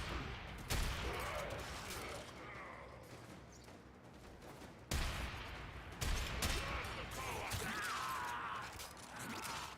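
Video game gunfire during skeet shooting, a few sharp loud shot bursts spaced several seconds apart over a busy background of game sounds, fairly distant and faint overall.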